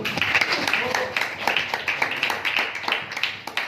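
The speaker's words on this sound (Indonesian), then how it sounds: "Tepuk tangan, tepuk tangan." Audience at a religious talk claps on request, a run of quick, fairly close hand claps with a rough rhythm, while a voice speaks over it.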